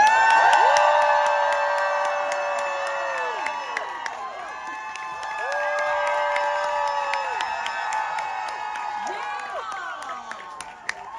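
A crowd at Rough Trade East in London welcomes a singer with loud whoops, high shrieking cheers and scattered clapping that swell at first, then ease off and rise again.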